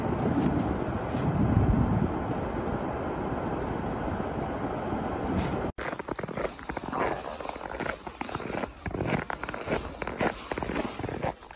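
Strong wind roars through a Hokkaido snowstorm with dense, continuous buffeting noise that shifts abruptly midway into gustier, rougher rumbling against the microphone.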